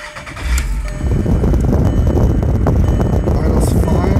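A Mk4 Volkswagen Golf engine idles steadily and close by, a continuous low rumble that starts a little quieter and holds even for several seconds.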